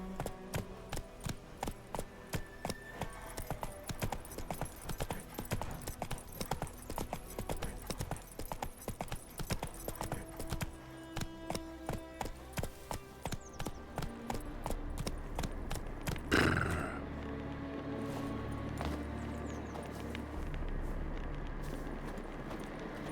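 Roach the horse from The Witcher 3 gallops in a fast, regular clip-clop of hooves, steady and moderately loud, with a brief burst of noise partway through before the hoofbeats continue.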